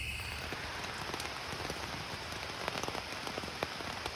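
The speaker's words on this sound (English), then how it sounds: "Well, I'm getting to experience the rain." Steady rain drums on a camping tent at night, a dense continuous patter with scattered sharper drops landing close by, no voices.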